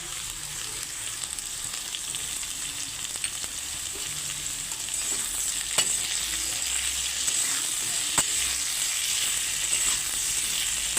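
Papaya and potato pieces fry in a pan with an even, constant hiss of sizzling oil, broken by occasional faint clicks of stirring.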